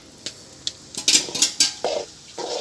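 Semolina (rava) being tipped into hot ghee in a pan for butterfly-pea flower kesari, a brief run of soft pattering and sizzling with spoon scrapes against the pan, close and fairly loud, no talk.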